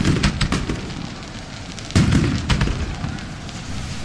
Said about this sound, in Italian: partono fuochi, sentite